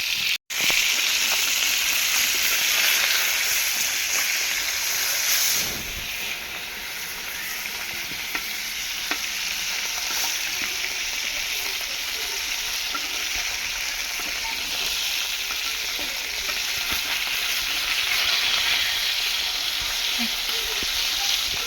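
Leafy greens frying in a pan, a steady dense sizzle filling the clip with a brief dip near the middle and constant hiss throughout, close and fairly loud with no talk.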